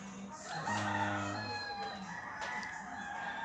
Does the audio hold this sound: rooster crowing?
yes